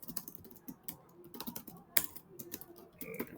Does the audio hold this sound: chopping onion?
no